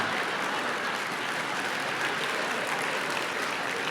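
Steady, dense applause from a large auditorium audience at a book talk fills the whole stretch without pause, heard from within the crowd.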